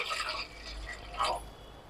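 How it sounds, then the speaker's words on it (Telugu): Water poured into an idli steamer pot on a stove, a short splashing fill with a brief louder gush near the end, close and clear with no talking. "ఇడ్లీ పాత్ర పెట్టుకుని అందులో వాటర్ వేసుకుందాం"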